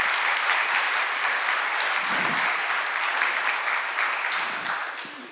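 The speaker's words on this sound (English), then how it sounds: "please offer a big and strong and warm applause to all our partners to be here today" A large audience at a corporate LED display company spring event applauds partners, dense sustained clapping filling the room at steady loudness before tapering off at the end.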